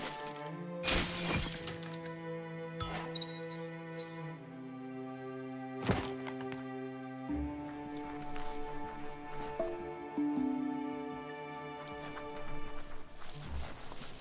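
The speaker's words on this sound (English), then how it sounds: "You shouldn't worry about smashing up the box." A box smashed in the video game Biomutant, with a couple of sharp breaking crashes cutting through steady, layered game music.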